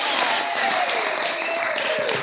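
Students and staff at a school assembly clap for a student, a dense, loud, continuous burst of applause filling the short stretch without pause.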